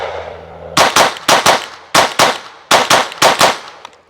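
Glock pistol fired in a doubles drill: loud, sharp shots coming in quick pairs, about ten reports with short pauses between the pairs, close and alone.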